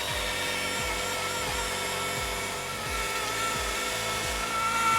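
A power tool grinds motorcycle tyre rubber, working through sanding grits, with a steady high whine over repeated low sweeping passes, close and continuous with no talking.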